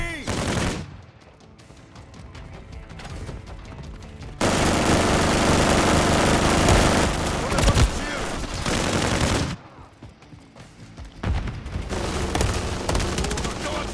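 Heavy automatic gunfire rattles in Modern Warfare 3 arcade play, in long sustained bursts broken by short pauses, loud and dense, with someone talking over parts of it.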